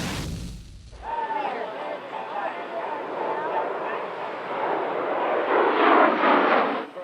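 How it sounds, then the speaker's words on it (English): Jet aircraft roar past overhead at an air show featuring the Thunderbirds and other military and stunt planes over Burke Lakefront Airport in Cleveland. The engine noise is a broad, rising whoosh that swells loudest near the end. "All eyes were to the sky as the Thunderbirds and other military and stunt planes put on a show over Burke Lakefront Airport."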